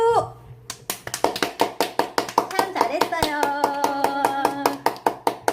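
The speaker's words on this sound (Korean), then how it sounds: "박수." A grandmother and young grandson clap their hands during a Korean word game at home, with about two dozen close, steady claps in a brisk rhythm while an adult talks and sings over them.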